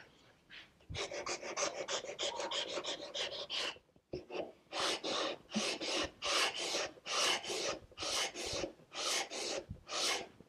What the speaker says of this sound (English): I'm sanding up into this corner